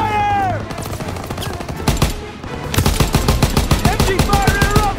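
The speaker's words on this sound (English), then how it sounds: "MG fire interrupted!" Sustained machine gun fire from an MG pillbox in the World War II shooter Call of Duty WWII, rapid rhythmic bursts with explosions and battle noise, loud and near, with a voice shouting over it.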